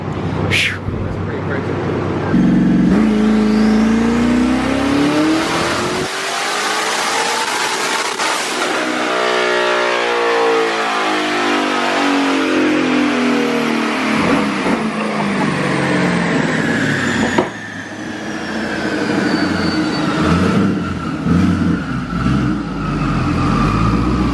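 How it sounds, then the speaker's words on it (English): A twin-turbo 2019 Mustang GT on a dyno revs loud and close, the engine note climbing and falling through long sustained pulls with a turbo whine. "When you're spinning on the dyno with good tires, that's a good sign."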